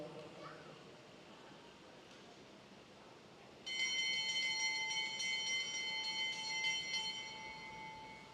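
At an international junior cycling track race, a bell rings rapidly and repeatedly to mark the last lap, its bright metallic peals starting abruptly and sounding over crowd murmur and background noise.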